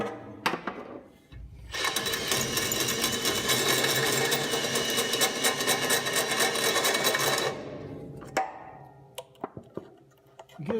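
Metal being cut with cutting fluid for a crossmember pass-through, a loud, harsh, sustained grinding-saw roar lasting several seconds, with scattered clicks and knocks before and after.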